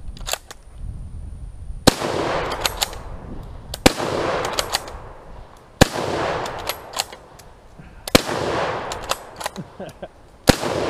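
A Turk Mauser rifle fired rapidly outdoors, loud sharp shots every couple of seconds, each followed by quick clattering bolt work and a lingering echo.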